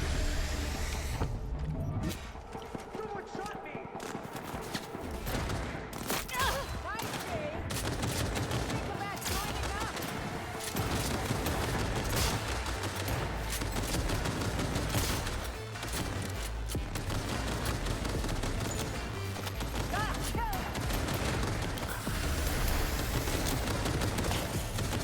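Dense gunfire rains on the player in Cyberpunk 2077: Phantom Liberty, with rapid automatic bursts, single cracks and crashing impacts layered continuously and loudly, amid other combat noise.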